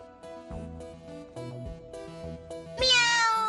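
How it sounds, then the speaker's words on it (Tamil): A cartoon cat meows in an animated series, giving a clear, bright cry near the end over a backdrop of soft music. "கவலைப்படாத லீனா, பூனை எங்க ஓடினாலும் திரும்பி வந்துரும"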